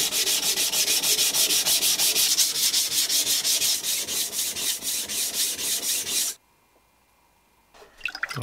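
Rhythmic back-and-forth strokes of a knife blade across a Naniwa Advance S2 220-grit whetstone, loud and steady for about six seconds, then stopping into near silence before a few faint scrapes return.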